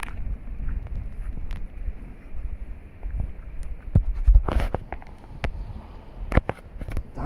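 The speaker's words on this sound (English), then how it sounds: "Damn, that was quite a big gust of wind." A strong gust of wind during Storm Franklin roars and buffets the microphone outdoors, with a low rumbling that rises into louder bursts in the second half.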